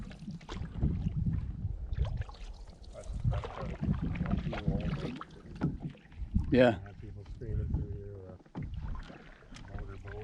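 A canoe glides through seaweed-filled water in Quetico with soft paddle splashes and gurgles, while people talk quietly nearby.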